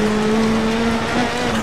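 Rally car in the Dirt Rally video game launching hard off the start line, a steady high engine drone held at full revs, loud and close throughout with no talk.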